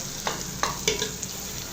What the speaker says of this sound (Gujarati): તો હવે આપણે નાખી દઈએ રીંગણા